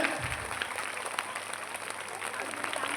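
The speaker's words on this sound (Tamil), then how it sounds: "கைத்தட்டலாம், நல்லா கைத்தட்டலாம்" An audience claps together at a former student's talk, a fairly faint but continuous patter of many hands with scattered sharper claps.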